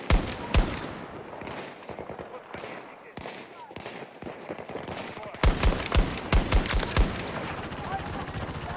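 Bursts of automatic gunfire and sharp single shots in the video game Battlefield 2042 on PS5, dense rapid cracks close by, building to heavier volleys toward the end, with occasional voices under the shooting.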